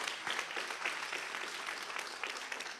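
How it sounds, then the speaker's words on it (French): Audience applause at a university event on international exchanges, honoring two women; sustained, fairly even clapping from many hands with scattered sharper claps, moderately loud. "Applaudissez-les, s'il vous plaît."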